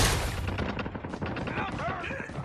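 A legendary HDR sniper rifle in a shooter game fires with a sharp, loud crack followed by a flourish of kill-effect sounds, over a busy combat background, and a voice speaks during it.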